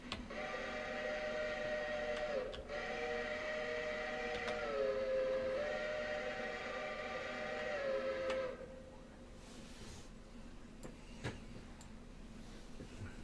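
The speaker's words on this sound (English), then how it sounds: "And give them a whistle, let them know we're coming in." Steam locomotive whistle in the train game Railroader, a long steady multi-tone blast lasting about eight seconds with slight pitch dips, loud over a low rumble, then cutting off to quieter engine and ambient noise.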